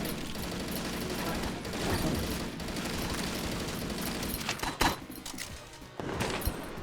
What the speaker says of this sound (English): That was a bad time to run out of machine gun shots.